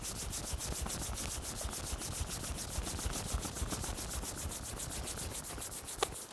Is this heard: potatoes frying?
no